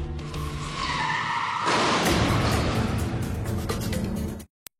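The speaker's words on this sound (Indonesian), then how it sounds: "Sampai-sampai Rico ditabrak oleh motor dan masuk rumah sakit" A motorbike crash with a long, loud tire skid that grows harsher midway, then cuts off abruptly, followed by one sharp impact.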